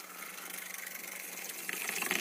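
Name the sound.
water being poured in for a juice blend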